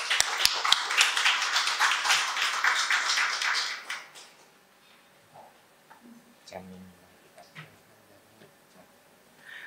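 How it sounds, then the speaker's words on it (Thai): An audience at a Siam Society lecture applauds the lecturer, a dense burst of clapping for about four seconds that then dies away into scattered faint taps and quiet room noise. "ขอปรบมือให้อาจารย์นะคะ"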